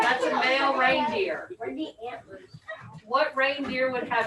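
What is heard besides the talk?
No everyday noises stand out.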